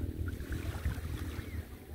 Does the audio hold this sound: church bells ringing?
no